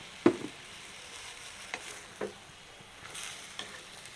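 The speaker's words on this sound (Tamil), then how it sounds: "நல்லா பிரட்டிட்டு இப்படியே இதை நாங்கள் மெல்லிய நெருப்பில் விட போகிறோம்" Radish curry with milk poured in, stirred in a pan over a low flame in a Jaffna-style village kitchen, giving a few soft scraping stirs and faint sizzling spread over quiet stretches.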